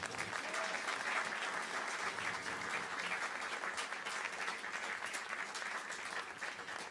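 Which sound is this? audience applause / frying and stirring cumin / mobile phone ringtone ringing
audience applause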